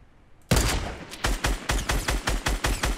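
Fortnite Battle Royale gunfire erupts suddenly after a quiet moment, a loud opening shot followed by a rapid, evenly spaced string of sharp, close reports that keeps going to the end.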